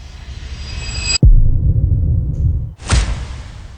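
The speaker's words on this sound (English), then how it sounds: "Cinematic sound effects." Cinematic sound effects: a broad noisy rumble that cuts off sharply, a deep impact thud with low throbbing decay, then a second whooshing hit returning to the wide rumbling texture, loud and without speech.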